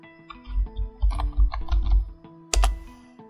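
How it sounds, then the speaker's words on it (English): Quick bursts of keystrokes on a computer keyboard, close and crisp, with a brief pause and a final sharper clack near the end. "we're going to double click in here and type in Blu-ray."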